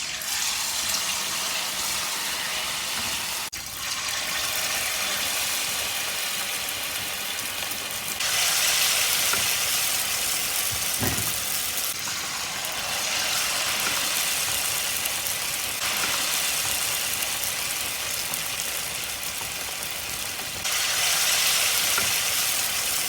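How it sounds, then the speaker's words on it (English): Battered taro pieces deep-frying to a golden crisp in hot oil, giving a steady, dense sizzle with bursts of louder crackling that runs the whole time with no voices. "Each taro piece is then dipped in the batter and fried to a golden"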